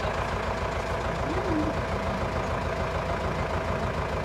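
A jeep engine idles steadily at a moderate distance, a low continuous rumble with no revving and no speech over it.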